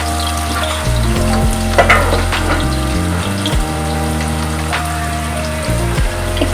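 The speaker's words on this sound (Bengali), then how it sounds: "প্রথমে আমি আলুগুলো ভেজে নেব।" Potatoes frying in hot oil in a pan, a steady, loud sizzle with bubbling that runs without pause, with a few soft stirring knocks along the way.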